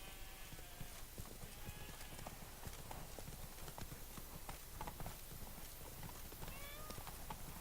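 Horse hooves clip-clopping steadily at a walking pace, Roach the horse in the video game Witcher 3 Blood and Wine, a continuous even rhythm over game ambience with a faint whinny.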